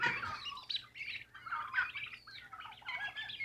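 Turkey hen squawking through a fence at a group of five poults, a dense run of harsh, overlapping squawks and shrill calls filling the whole stretch, fairly close and fairly loud.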